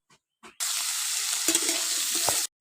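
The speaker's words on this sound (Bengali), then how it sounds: "এবার এর মধ্যে গাজর, বিন কড়াই আর মটরশুঁটি আর ফুলকপি দিয়ে ভেজে নেব" Carrots, beans, peas and cauliflower go into hot oil in a pan, bursting into a loud, steady sizzle of frying that runs for about two seconds after a couple of soft knocks, with a brief stir partway through.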